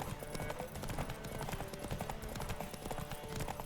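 Rapid hoofbeats of a galloping horse in the video game The Witcher 3: Wild Hunt pound in a steady rhythm, loud and close, with a rushing background and faint voices.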